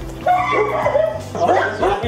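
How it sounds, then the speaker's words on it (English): Several neglected dogs inside a home bark and whimper up close, with short yips and whines over one another, while people talk nearby. "there's another dog inside"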